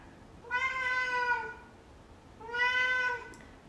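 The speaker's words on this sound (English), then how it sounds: "That was my cat." A pet cat indoors meows twice, two clear drawn-out calls a second apart, fairly close and alone with no talking.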